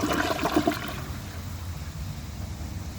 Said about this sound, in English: let's try another flush and see how much of this it can clear